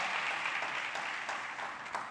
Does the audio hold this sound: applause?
yes